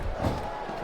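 Roaring arena crowd in the wrestling video game WWE SmackDown vs RAW 2007, a brief, steady wash of cheering from a packed capacity audience.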